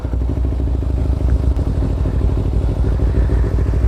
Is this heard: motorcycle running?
yes